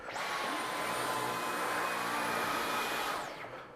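A Dyson V15 Detect cordless vacuum cleaner runs with a loud, steady high-pitched whine and airy rush, spinning up at the start and winding down at the end, with no talking.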